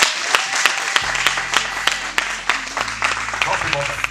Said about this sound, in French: Acclamons très fortement les Seigneurs.